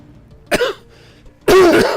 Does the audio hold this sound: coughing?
yes